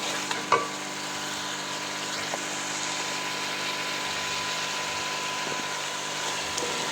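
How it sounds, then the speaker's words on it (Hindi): Mixed vegetables sizzle and fry in a pan over a high flame, a steady, even crackling hiss that runs the whole time with a couple of faint stirring knocks and no talking. "तेज़ चूल्हे पे भूनूँगी इसको मैं"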